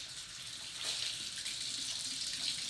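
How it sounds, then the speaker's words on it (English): Steady hiss of a running water tap at a home sink during handwashing, close and even for a few seconds with no voices. "What do we do first? Wash our hands."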